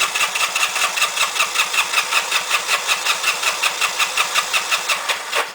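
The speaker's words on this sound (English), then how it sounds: "throttle wide open, key on, and we're going to start cranking" A 1970 Honda CL175 motorcycle engine cranking over on the starter with the throttle wide open for a compression test, a loud, close, evenly pulsing churn that repeats steadily without firing.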